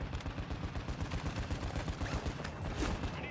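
A deployed sentry gun in Call of Duty DMZ fires a steady, rapid automatic stream, rhythmic shots pulsing evenly throughout at moderate, slightly distant volume, with no one talking.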